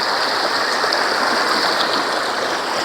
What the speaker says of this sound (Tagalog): may ambon-ambon pa rin.